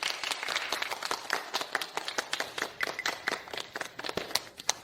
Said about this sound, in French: applaudissons chaleureusement pour accueillir ma future épouse. Mademoiselle Linzian.